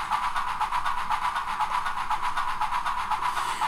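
A model train locomotive with a Tsunami2 sound decoder runs steadily, its sound a rhythmic chuffing pulse repeating evenly at moderate loudness, with no talking.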